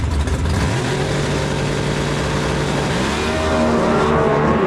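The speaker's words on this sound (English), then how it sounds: "306 cubic inch inline 6-cylinder, pushing that 23T Roadster down the racetrack" A 306 cubic inch inline six-cylinder 23T Roadster at a drag race in Noble, Oklahoma, its engine droning loudly, idling then revving higher and rising in pitch as it builds toward launch.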